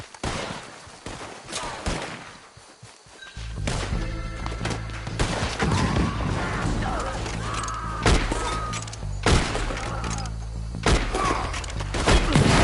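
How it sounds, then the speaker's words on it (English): Gunfire in the Red Dead Redemption video game: after a quiet start comes a loud barrage of shots, sharp cracks and heavy booming bursts layered over a low rumble, with a few shouting voices mixed in. "I'll riddle you with bullets!"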